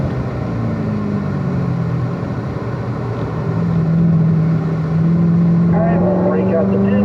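A Chevrolet Corvette C7 ZR1 brakes and downshifts into third gear on the Spring Mountain track, its loud, close engine drone dropping then climbing sharply in pitch midway, over steady road and wind rush, with a voice talking across it.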